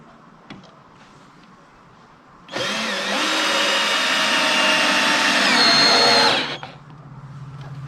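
Power screwdriver driving a screw into deck boards in a single continuous burst of about four seconds, loud and close, rising as it bites in, with quiet background before and after.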